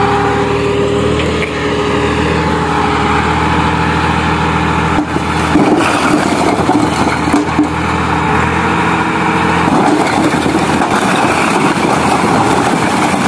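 A tractor engine idles with a steady, loud drone while its trolley delivers bricks to a house construction site, with clattering and knocking sounds joining partway through and no clear talk.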